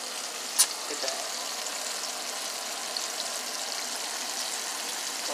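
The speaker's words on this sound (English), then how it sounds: "My shrimp is cooking." Fried shrimp sizzle in a hot pan as a constant, even hiss that carries on for several seconds. One sharp pop comes near the start, and no one talks over it.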